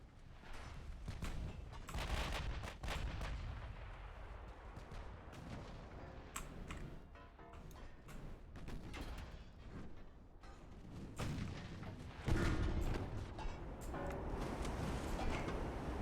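HE shells firing at and hitting a battleship in the naval game Ultimate Admiral: Dreadnoughts, irregular sharp booms and impacts over a dense rumbling battle background, moderately quiet, no talking.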